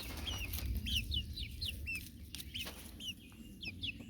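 Copper Marans hens clucking in their run, repeated short calls at moderate distance over a quiet background murmur.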